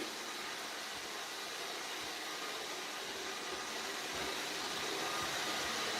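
A Roomba robot vacuum runs in a restroom, a constant whirring hiss of motor and brushes that stays even and fairly close with no pauses.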